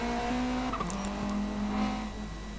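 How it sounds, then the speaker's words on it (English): Race cars in the Gran Turismo video game drive past with engine tones that drop and jump as they shift gears, a steady mid-level roar with no talking over it. "Make a funny sound when they switch gears, by the way, these cars."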